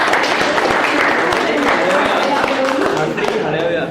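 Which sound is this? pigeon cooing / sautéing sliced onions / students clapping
students clapping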